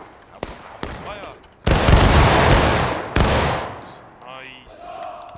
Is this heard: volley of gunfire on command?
yes